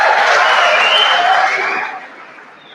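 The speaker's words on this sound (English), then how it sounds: "let's give a round of applause to our different speakers and organizers" An indoor audience at an education and careers fair applauds speakers and organizers with a dense burst of clapping. The applause is loud at first, then fades out over a couple of seconds.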